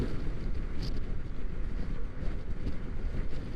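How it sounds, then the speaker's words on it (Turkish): Rushing wind buffets the microphone inside a motorcycle helmet while riding a Honda PCX 125, a dense, continuous low roar, steady and close, with no voices. "Ama rüzgar alıyor yandan, kıyıdan, köşeden."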